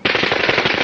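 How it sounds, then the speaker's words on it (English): Rapid automatic fire from an Uzi machine gun at night, a loud, dense burst of closely spaced shots rattling continuously for under a second, with no pause between rounds. "The gunfire from the Uzi just lit up the place."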